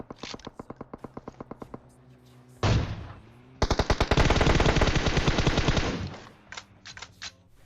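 Rapid bursts of automatic gunfire rattle out in PUBG, one long sustained volley between shorter strings of shots, loud and close.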